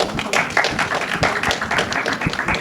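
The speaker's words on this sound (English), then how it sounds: "A big round of applause for Food Link." A big round of applause at a film festival gathering in Boston, dense steady clapping from a crowd throughout, fairly loud and close, with no talking over it.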